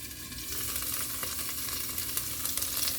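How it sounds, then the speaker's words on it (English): Celery sautéing in a pan at home, a steady bright sizzle and crackle with small pops, continuous and close, with no voices. "I'm just sauteing up some celery"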